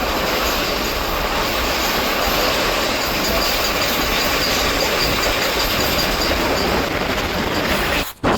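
Nagercoil–Chennai Central weekly train passing at full speed, a loud continuous roar of wheels and rattling carriages right up close, with squealing wheels and a sudden cut at the end.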